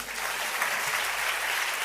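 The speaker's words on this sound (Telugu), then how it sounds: "చప్పట్లు కొడదామా?" Audience applause from a congregation during a Telugu church sermon on prayer, a steady, dense clapping that fills the whole stretch without pause and with no talking over it.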